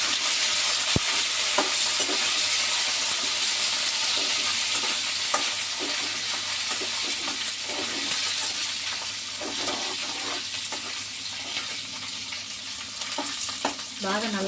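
Curry leaves and chillies frying with cumin in a pan for gongura chutney, a steady close sizzle with occasional stirring scrapes and clinks throughout.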